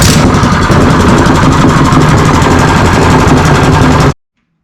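A DuroMax 7hp small engine runs steadily and loudly at a dense, buzzy idle for about four seconds, then cuts off abruptly into silence.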